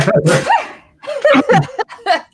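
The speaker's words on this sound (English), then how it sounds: "Hold on, I gotta sneeze." A single loud sneeze bursts out close to the microphone, followed by a few quick vocal sounds.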